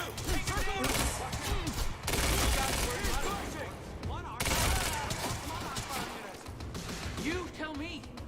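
Game gunfire from Quantum Break, dense bursts and crackling shots running throughout amid music and effects, with character voices speaking over the action.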